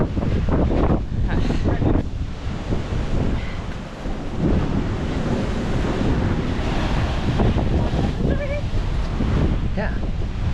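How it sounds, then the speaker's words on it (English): Strong ocean surf pounds a rocky shore near Vík, Iceland, a continuous loud roar with heavy wind buffeting the microphone and voices talking over it. "Roy, the waves are gonna be super strong here, you know?"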